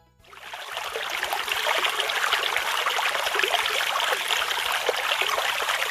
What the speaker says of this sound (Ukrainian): А це звук струмочка, який дзюрчить.